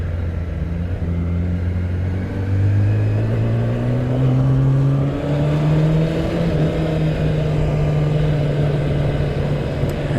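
A stock-exhaust motorcycle engine revs up and down in long rising and falling sweeps, loud and close, holding a steady rumble throughout with no talking.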